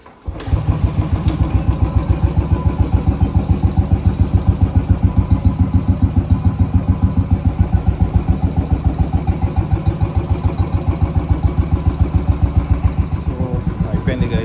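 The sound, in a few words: Royal Enfield motorcycle kick-started, engine idling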